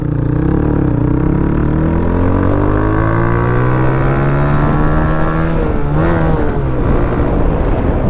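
A Gixer Monotone motorcycle accelerates hard toward 70 for a braking test, its engine note rising steadily in pitch, loud and close with wind noise, then dropping sharply near the end as it slows.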